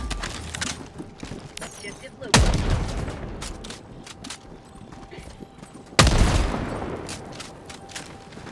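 Turret gunfire in the video game Helldivers 2, with dense bursts of shots and two sharp loud onsets over constant battle noise, mixed with background speech.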